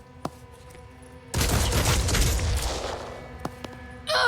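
Gunfire in the Phoenix Point video game: a sharp single shot, then a sustained loud burst of rapid fire for several seconds, followed by a few isolated crisp shots and distant rumbling.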